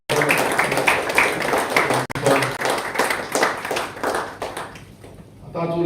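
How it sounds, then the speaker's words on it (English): An audience at a youth parliament event at Don Bosco College of Engineering gives a loud, sustained round of applause for the college staff, dense clapping filling the hall before it thins out at the end. "I will request all the audience to give a round of applause to all the staff."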